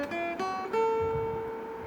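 Guitar picks out notes of the major pentatonic scale in first position, a few clear plucked tones ringing and sustaining, close and fairly quiet, with no talking.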